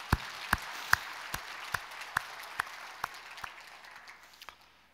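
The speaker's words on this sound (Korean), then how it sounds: "우리 격려의 박수 보내겠습니다" Congregation applause during a Sunday church service: a run of evenly spaced, distinct claps, fairly soft and slowing before fading out, with no talking.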